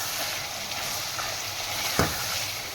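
Frying sizzles steadily in a handi during the mutton malai handi preparation, a dense, even hiss close up with one brief knock of a utensil near the end and no talking.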